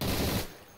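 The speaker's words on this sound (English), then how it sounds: "This guy had an MG42." MG42 machine gun fire in the video game Day of Infamy, a short, dense burst of rapid shots that cuts off after about half a second.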